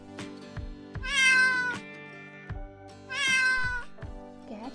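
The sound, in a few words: cat meowing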